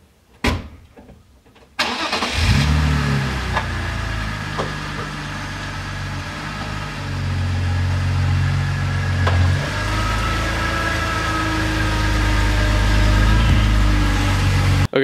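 A BMW E46 330ci engine starts up and settles into a steady, close idle that runs on alone with a faint mechanical whine, as the car is pulled into the workspace.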